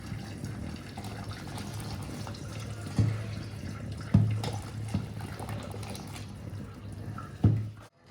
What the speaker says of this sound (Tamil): இப்போது நம்ம ஒரு ஜாலியில் ஒரு ஒயிட் கிளாத் போட்டு வச்சுருக்கோம். அதில் இதை வடிகட்டிக்கிறோம்.